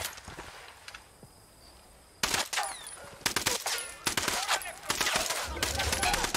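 Special weapon gunfire in the video game Ghost Recon Wildlands, a quiet lead-in followed by a sudden run of loud, sharp rapid shots and bursts with brief gaps.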